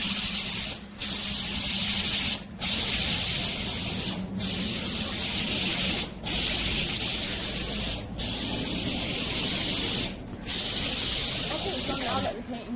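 Spray gun hissing as Honda Shadow VLX motorcycle parts are painted, a loud broadband spray held in long bursts of about a second and a half, each cut by brief pauses, steady and close.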